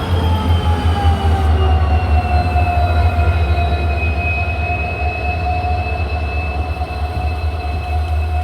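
A train hauled by a WDP4D diesel locomotive rolls along the Kollam to Aryankavu line. A heavy, steady rumble runs throughout, with high, drawn-out wheel squeals over it and no speech.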